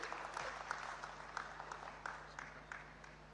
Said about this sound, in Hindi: जोरदार ताली होनी चाहिए इनके लिए।